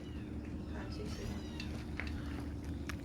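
Several faint cat meows in the countryside, short and high-pitched, scattered over a low steady background hum.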